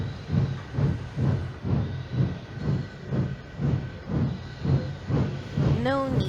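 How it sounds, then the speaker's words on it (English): A steam engine in the Trainz simulator, pulling coaches into a platform, chuffs in a steady rhythm with hissing bursts, then a brief rising whistle-like tone near the end. "98462 came hooting and wheeshing into the platform with Edward's coaches."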